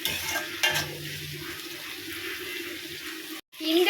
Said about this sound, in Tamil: குடமிளகா சேர்த்தாச்சு. அதையும் நல்லா பெரட்டி விட்டுக்கலாம்.